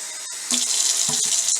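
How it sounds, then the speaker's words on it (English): Hot water runs from a tap into a water bottle, a loud, close, bright hiss that surges in partway through and keeps pouring, with gurgles as the bottle fills. "what I usually do is I fill it up with hot water up to about the 16 ounce line"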